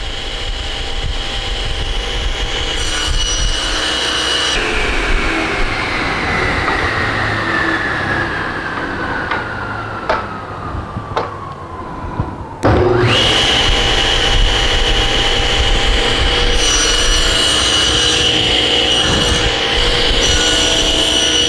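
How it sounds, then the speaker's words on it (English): A saw cutting grooves in wood with a kerf-making jig, heard as a loud, steady whine that holds for about twenty seconds with a brief dip partway through, then resumes at full strength. No one speaks. "I need to make a groove right here, and to do that I'm going to use my kerf making jig"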